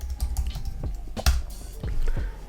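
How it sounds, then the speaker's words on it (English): Keys tapped on a computer keyboard while entering a web address during Django app development, a short run of close, irregular clicks with a sharper strike near the middle. "So if we were to go back here and type in samsung.com again"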